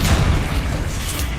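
The Confringo blast spell from the wizarding game Hogwarts Legacy goes off as a brief, booming, explosive burst that quickly fades into a rumbling tail.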